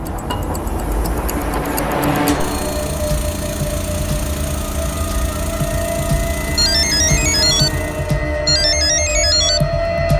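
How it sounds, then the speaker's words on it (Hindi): A phone ringtone chirps repeatedly over a low engine rumble, the electronic rings starting partway through and going on without being picked up. "सर, ये रमन फोन ही नहीं उठा रहा है।"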